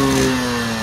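A Yamaha RX 135 two-stroke motorcycle engine runs loud and close with a steady buzzing tone, a brief burst of revving without speech.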